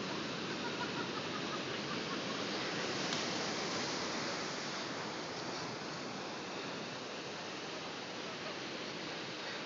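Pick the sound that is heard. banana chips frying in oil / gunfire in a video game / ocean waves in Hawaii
ocean waves in Hawaii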